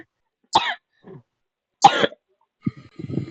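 Two sharp, separate coughs a little over a second apart, followed by a short throat-clearing sound, close and loud against silence.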